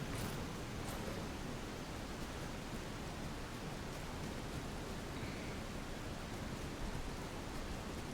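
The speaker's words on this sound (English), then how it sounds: "it's starting to rain" Steady rain falls in the video game Skyrim, an even, continuous hiss of close, dense rainfall that holds level throughout with no voices.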